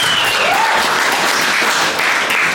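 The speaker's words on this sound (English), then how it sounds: "yeah, let's give him a big round of applause" An audience at a boxing press conference for Lerena vs Radchenko breaks into loud, sustained applause, a dense wash of many hands clapping with a couple of whistles cutting through the crowd noise.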